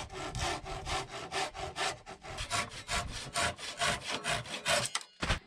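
A hand saw cuts wood for tiny house kitchen cabinets in steady, rhythmic back-and-forth strokes, loud and close, about a dozen rasping passes before a short pause and a final stroke.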